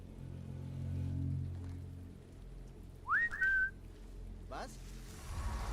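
A short whistled tune from The Legend of Zelda: Twilight Princess sounds once near the middle, a bright rising then steady tone lasting under a second, over a steady low background hum.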